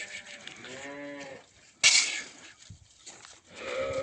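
Young lambs for sale, seven ewe lambs around eight months old, bleating in a pen: a few wavering calls early on, then a sharp louder bleat near the middle, with more bleats toward the end and no talk.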